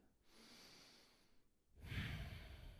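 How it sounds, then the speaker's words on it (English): A yoga practitioner takes a deep breath, first a long soft inhale through the nose, then a brief pause, then a stronger, breathier exhale out the mouth, close and quiet. "Deep inhales through the nose. Deep exhales out the mouth."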